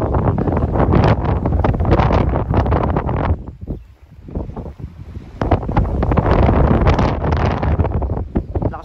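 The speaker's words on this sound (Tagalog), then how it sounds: "hangin, medyo masama kasi yung panahon ngayon." Strong wind in bad weather on a fishing outing, buffeting loudly across the microphone in harsh gusts that briefly drop off before roaring back, with no speech.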